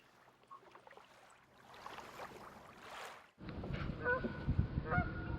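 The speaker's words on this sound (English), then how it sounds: "Lake Jonas also supports an abundance of waterfowl, the most common of which being mallard ducks and Canadian geese." Canada geese honk loudly and repeatedly at a lakeside nature reserve, a burst of close calls breaking in abruptly after a quieter stretch of soft outdoor ambience.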